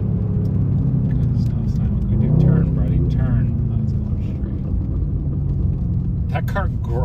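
A Mercedes C63S engine rumbles and gargles on a backroad drive, a steady deep drone that swells briefly with the revs, heard from inside the car while people talk over it.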